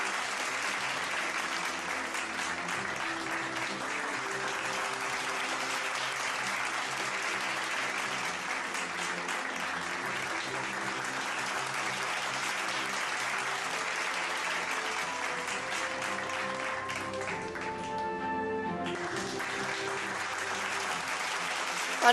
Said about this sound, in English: Let's show our appreciation for their cooperation with their loud claps